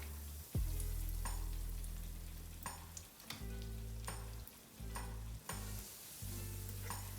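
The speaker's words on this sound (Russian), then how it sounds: "В разогретое растительное масло опускаю наши сосисочки." Sausages dropped into hot vegetable oil in a pan, a sharp splash of sizzling followed by steady loud frying crackle with occasional stirring clatters.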